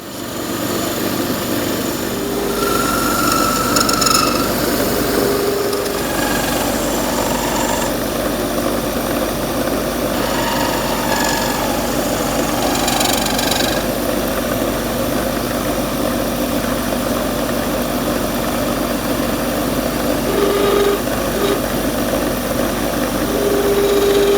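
Wood lathe spinning a segmented ebony and olive pen blank, a steady close motor drone and hum running throughout with faint scraping touches and no talk.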